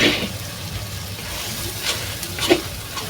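Chicken and potatoes sauté in a large pot on a clay stove, a steady close sizzle with a couple of brief bright splashes and stirring clatters and no talking.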